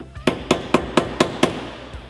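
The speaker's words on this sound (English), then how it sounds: "Just take a little piece of wood, hammer." Six sharp, evenly spaced taps of a hammer striking a small wood block, close and crisp, in a quick steady rhythm, fitting a trunk hinge on a Chevelle.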